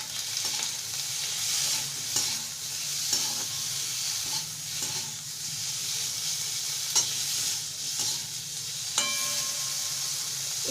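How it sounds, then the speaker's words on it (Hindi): Potato pieces fry in a kadhai with turmeric, red chili and salt over high to medium flame: a steady close sizzle broken by repeated sharp spatula scrapes and taps against the pan. "इसे आप हाई टू मीडियम फ्लेम पे भून करके निकाल लेंगे 2 से 3 मिनट के अंदर"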